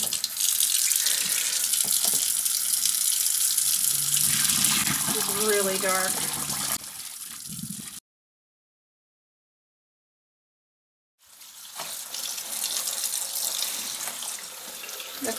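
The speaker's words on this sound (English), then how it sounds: "I'm going to run my water." Kitchen tap water runs steadily into a sink while dyed vintage slips are rinsed, a constant close splashing gush with brief speech over it, then a gap of silence before the running water returns.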